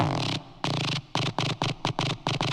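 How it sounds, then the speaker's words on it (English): A Serum synth bass patch for jump-up drum and bass plays: a long gnarly note, then a run of short, punchy stabs in a choppy rhythm, loud and alone. "it's a bass that I created for a reproduction of another Jumpup song that just sounds like this."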